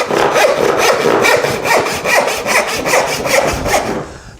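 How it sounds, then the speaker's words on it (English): A rip-configured tenon saw cuts through wood in steady back-and-forth strokes, about ten rasping passes close up and loud with no talking, ending abruptly. "So here we have a tenon saw that has a rip configuration as well"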